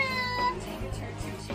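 A cat meows repeatedly in short, close calls over a low steady background hum, with faint voices or noise mixed in underneath.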